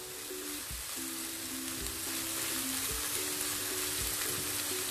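Onions frying in a pan for sarson ka saag, a steady close crackling sizzle with faint periodic stirring knocks, no voices.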